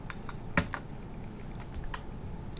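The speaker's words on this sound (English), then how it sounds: "We're going to type in a 0 EFC here at the top." Fingers tap a computer keyboard in a few quiet, close keystrokes, with one firmer press, over a soft steady background hum.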